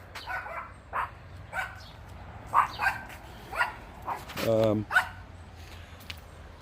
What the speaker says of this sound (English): here's my Yorkie Bobo again, interrupting my video